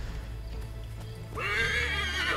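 A horse in the Assassin's Creed 3 video game lets out a loud, close whinny over a low rumbling background, with faint hoof clatter before it.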